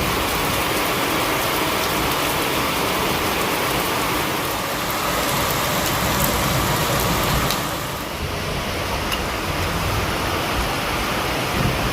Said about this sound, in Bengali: এখানে 1-2 ঘন্টা বৃষ্টি হওয়ার পরে এই যে অবস্থাটা দেখছো, চারিদিকে পুরো জল ভর্তি।